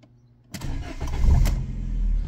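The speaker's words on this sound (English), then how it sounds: "turn your engine on." A Fiat Panda's engine cranks after a brief quiet, then catches and settles into a steady, close idle rumble.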